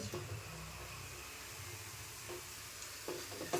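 Fenugreek leaves are stir-fried in a pan, giving a soft, steady sizzle with occasional scraping stirs, close and faint.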